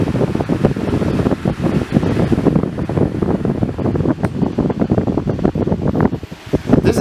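Ridgid and Dewalt cordless jobsite fans run close by, giving a loud, steady rushing whoosh of moving air that holds for the whole stretch and drops briefly near the end.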